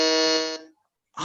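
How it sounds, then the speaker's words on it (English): At a school quiz, a buzzer blares once with a harsh, steady electronic tone for about half a second, then a voice begins speaking. "Aditya Banerjee, fastest on the buzzer."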